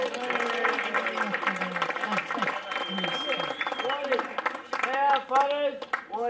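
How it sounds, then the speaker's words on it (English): Applause for football players at the Clairvaux FC senior awards night: scattered clapping from a modest crowd, mixed with chatter and voices talking nearby throughout. "give them a round of applause."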